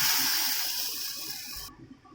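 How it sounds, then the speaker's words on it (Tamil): Water pours into a pan of sautéed small onions, tomatoes and chillies, a loud steady gushing rush that fades and cuts off, leaving faint sizzling bubbles. "பருப்பு வேகிறதுக்கு கொஞ்சம் தண்ணி சேர்த்துக்கலாம்"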